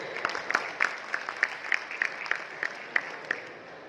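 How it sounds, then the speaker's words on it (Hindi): Scattered, uneven clapping from a modest audience at the launch of a new Inverex inverter model in 2021; sharp individual claps ring out over a steady bed of softer clapping, moderately close, with no talk. "इसके फर्स्ट आउटलुक से आप लोग मुझे अपनी तालियों से बताएंगे"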